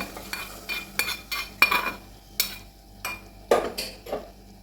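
Fried boondhi being mixed with ghee for a sweet boondhi, a spoon clinking and scraping against a metal vessel in about ten short, evenly spaced strokes, close and fairly quiet, with no talking.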